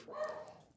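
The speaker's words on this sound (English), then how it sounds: "He just gets a whiff that something's going on and he starts barking" Nico, an old dog, lets out a short bark or yip at moderate distance, a single brief burst that fades quickly.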